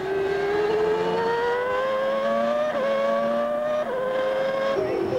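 A Benetton Ford Formula 1 car screams onboard at the Barcelona circuit, its high-revving engine loud and continuous, pitch climbing through each gear then dropping sharply at shifts several times.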